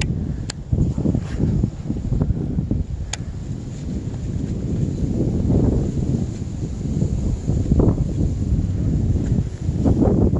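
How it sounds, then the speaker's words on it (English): Outdoor wind buffets the microphone in heavy, continuous low rumbling gusts that swell and fade, with a couple of faint high clicks. "Damn wind."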